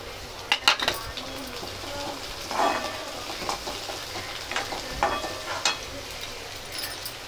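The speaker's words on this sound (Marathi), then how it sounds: "कांदा थोडा परतून घेऊया। टॅमॅटो टाकून घेणार आहे।" Onion and tomato being sautéed in a pan for a spicy chutney, with intermittent spatula scrapes and clanks against the metal pan over a low sizzle, close and fairly loud, with no talk.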